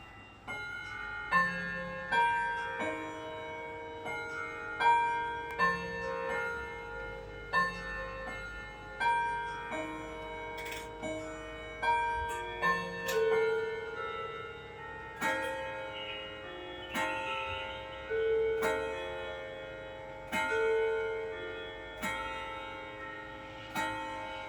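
Hermle walnut grandfather clock, 196 cm tall with moon phase, playing its Westminster chime at seven in the morning: a sequence of clear ringing bell tones, each struck note decaying, sounding steadily and close without any voices.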